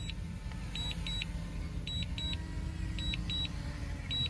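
A DJI Mavic Air 2 drone beeps while landing: repeated short paired high beeps come in regular groups over a constant low motor hum and wind rumble, close and clear.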